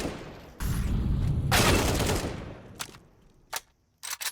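Gunfire in Counter-Strike 2 opens with a sustained burst of rapid shots, then trails into a few sharp, separate cracks with short silences between them.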